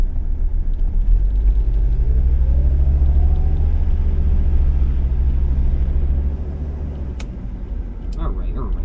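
A 1980s diesel Mercedes car drives on a wet road, its deep, steady engine rumble and road noise filling the cabin up close and easing slightly toward the end.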